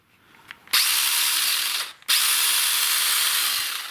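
A Makita DUC 190Z cordless mini chainsaw with an 8-inch bar revs up in two bursts of high, steady whine, briefly dropping off between them, running alone and close without any cutting.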